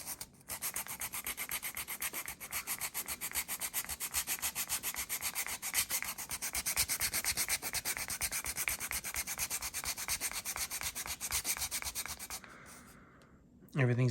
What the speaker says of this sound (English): Switch over to the grater. We'll smooth this guy off a bit.